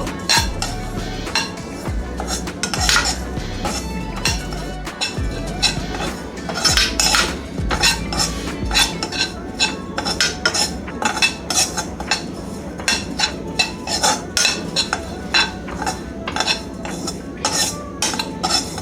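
Dry coconut powder being roasted in a pan, a utensil scraping and stirring steadily with clinks against the metal, continuous rhythmic strokes up close with no talking.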